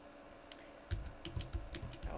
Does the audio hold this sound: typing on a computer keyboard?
yes